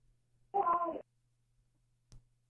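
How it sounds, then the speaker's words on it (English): A cat gives one clear, fairly loud meow lasting about half a second, heard alone in a quiet indoor room with a low steady hum, followed by a brief soft click. "is that a cat? I hope that's a cat."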